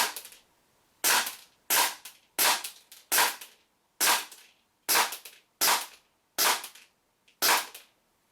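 WE Glock 19 Gen 5 airsoft pistol firing 0.2 gram BBs on green gas at a 10 meter target. Ten sharp, crisp pops come one after another at a steady pace, close and alone in a quiet room.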